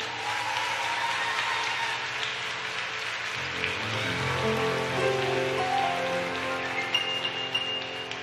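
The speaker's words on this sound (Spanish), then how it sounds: "fuerte el aplauso" Audience applause at a live music performance, a steady rainlike wash of clapping that carries throughout, with tonal musical sounds underneath.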